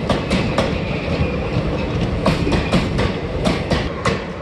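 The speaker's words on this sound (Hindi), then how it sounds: "फाइनली ट्रेन आ गई है" A small narrow-gauge toy-style train rolls into a little station platform, its wheels giving a steady rhythmic clickety-clack over the rails, loud and close with continuous rumble and no voices.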